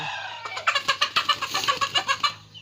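Chickens cluck in a rapid, rhythmic series of close, fairly loud calls as they are released from transport onto an open rice field, with no voices.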